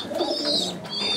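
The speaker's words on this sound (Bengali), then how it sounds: "এই মুহূর্তে আমরা দেখতে পাচ্ছি আরও এক জোড়া কবুতর।" A pair of pigeons coos at close range, a soft throaty rolling call that swells and fades over about a second, with no talk over it.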